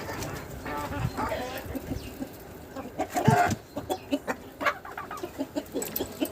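Several chickens cluck and murmur nearby in a busy, irregular chorus, with a few louder squawks and a person speaking quietly underneath.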